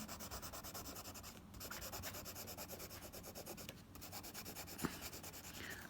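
A pen rubs steadily across paper while shapes are coloured in for a fractions lesson, giving a quiet, continuous rhythmic scratching with brief pauses between strokes and no talk.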